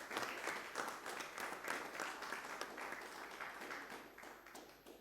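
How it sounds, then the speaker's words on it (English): Crowd applause at a demoscene party for participants of a ZX graphics competition, a dense, steady wash of clapping from a fairly distant audience lasting the whole stretch. "Round of applause, please, for all the participants."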